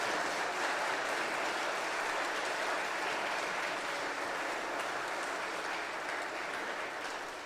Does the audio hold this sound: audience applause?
yes